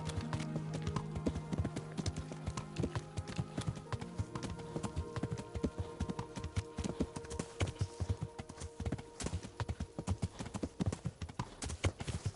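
Horse hooves clip-clopping steadily while riding in the medieval video game Kingdom Come: Deliverance, a brisk rhythmic gait, fairly close and moderately loud, with no talking.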